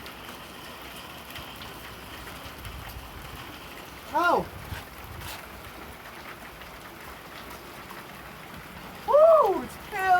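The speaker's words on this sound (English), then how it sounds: "It's hailing here!" Hail pelts a car in Kingman as a steady rain-like patter on the body and glass, with two loud voiced exclamations breaking through.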